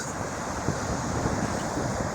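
Sea waves on the Konkan shore, a continuous broad wash of surf mixed with wind noise on the microphone, steady and close, with no speech.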